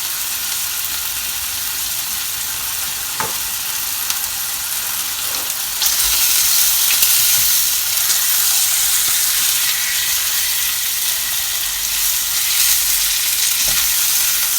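Sausage and bacon frying in a pan: a loud, continuous close sizzle that swells midway, with faint occasional ticks and no voices.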